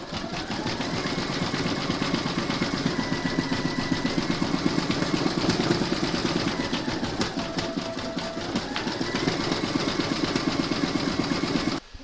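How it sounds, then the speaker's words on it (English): An embroidery machine stitching a satin-stitch border on an in-the-hoop cherry coaster, a continuous fast needle clatter with a rising and falling motor hum, steady and close throughout. "Pop your hoop back into your machine and stitch round number 8"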